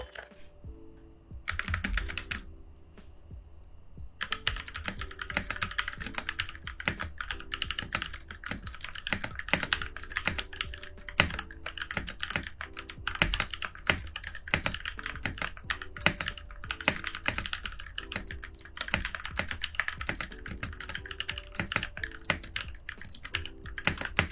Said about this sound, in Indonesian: Buat yang penasaran gimana suara dari keyboard ini, bakalan aku kasih klip yang udah aku sediakan untuk tes keyboard ini